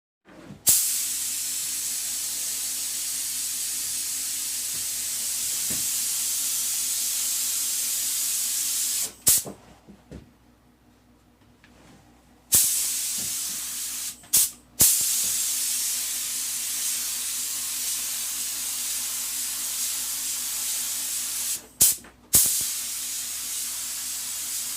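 A spray gun lays a medium coat of two-part clear coat, mixed two to one with hardener, onto a car headlight being restored, a steady close hiss running in long passes broken by brief pauses.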